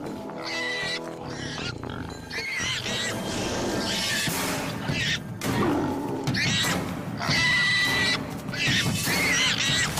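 A dragon in a fantasy adventure film mimics the distressed call of wounded prey, a loud, strained, wavering animal cry that shifts in pitch over a dense, continuous soundtrack.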